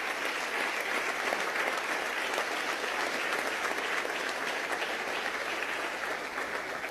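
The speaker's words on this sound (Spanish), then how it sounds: "pido otro aplauso para ese comité de postulaciones y para su presidente, el diputado Giuseppe Alessandrelli" Lawmakers in Venezuela's National Assembly applaud a nominations committee and its chair, a continuous even wash of many hands clapping for several seconds.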